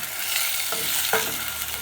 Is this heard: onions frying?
yes